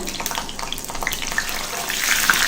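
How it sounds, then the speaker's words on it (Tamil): Cauliflower pieces frying in hot oil for biryani, a close, continuous crackling sizzle that grows slightly louder toward the end, with no talking. "பாருங்க, காலிஃப்ளவரை நல்லா பொன்னிறமா ஃப்ரை பண்ணிட்டோம்."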